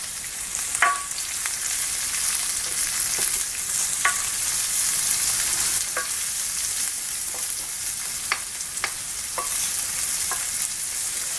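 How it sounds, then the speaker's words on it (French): Chopped onion softening in a hot pan for vegan tacos, a steady close sizzle broken by sharp clicks and scrapes of a utensil stirring every second or two, with no voices. "on va laisser fondre l'oignon, c'est-à-dire qu'on attend qu'il devienne transparent"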